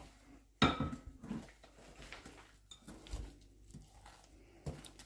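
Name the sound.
mixing chocolate chip cookie dough in a bowl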